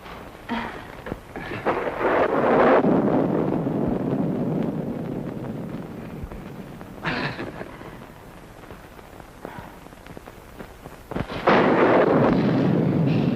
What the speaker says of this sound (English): I just couldn't let Georgie come out in this storm alone.